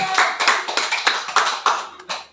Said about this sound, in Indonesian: Bisa tepuk tangan buat Tuhan, saudara?